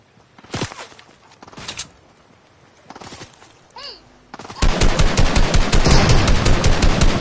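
Gunfire in a video game: a few isolated single shots at first, then a dense, loud burst of rapid automatic fire that continues steadily to the end.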